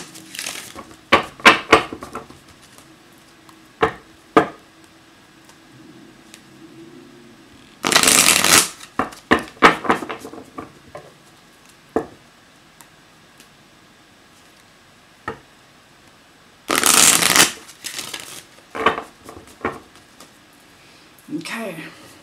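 A Spirit Oracle card deck is shuffled in two brisk riffling bursts, with scattered card taps and handling sounds between them; a person speaks softly throughout.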